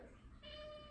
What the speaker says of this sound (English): Got my cats.